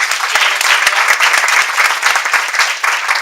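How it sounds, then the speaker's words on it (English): An audience at a morning speaking event breaks into lively applause, a dense and close burst of many hands clapping at once, loud throughout. "Can you give them a round of applause, please?"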